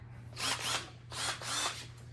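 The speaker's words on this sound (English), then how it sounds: "let me get the drill set up" Power drill used while installing light-up Excursion emblems, three short whirring bursts that spin up and down in quick succession over a low steady hum, fairly quiet and with no talking.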